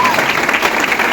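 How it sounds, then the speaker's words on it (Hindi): Audience applause at a Vestige direct selling corporate meeting, a dense, steady burst of clapping that fills the whole brief moment at an even level. "इंडस्ट्री के लिए तालियां होनी चाहिए।"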